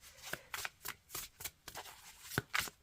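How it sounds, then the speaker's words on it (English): Lythra tarot cards being shuffled by gloved hands in quick repeated bursts, a crisp riffling flutter several times over, close and fairly quiet with no talking. "Yeah, these shuffle nicely, even through these gloves."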